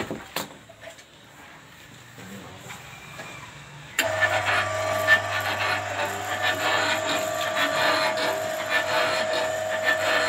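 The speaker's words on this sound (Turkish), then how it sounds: "vincimizi tekrar sarıyoruz yeni bir kullanıma hazır olması için" A winch is wound back up in an armchair maker's frame workshop. Quiet scraping and rustling give way, about four seconds in, to a steady mechanical whirring hum that carries on to the end.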